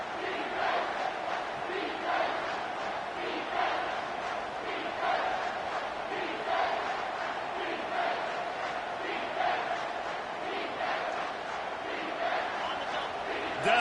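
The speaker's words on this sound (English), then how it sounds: "decibels rising as the crowd gets behind this defense on third down" A stadium crowd roars at a college football game on third down, a dense, sustained wall of cheering and yelling with rhythmic surges, loud and continuous throughout.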